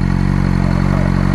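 A Suzuki GSX-R 600 sport motorcycle engine running close by, a loud, steady rumble with a fast, even pulsing beat throughout.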